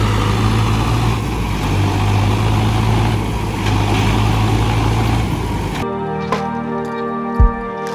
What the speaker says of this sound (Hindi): कुछ लोकल विलेजर्स उसे ट्रैक्टर के सहारे बाहर खींचने की कोशिश कर रहे हैं